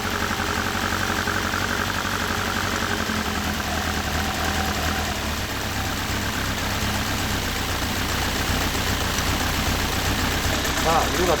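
A Toyota 4A-G 16-valve engine fitted with quad throttle bodies idles close by with a steady, loud, slightly lumpy drone, while people talk over it.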